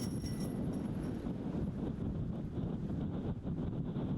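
Strong wind buffets the microphone on an outdoor disc golf course with a continuous low rumble and roar, steady throughout with no voices.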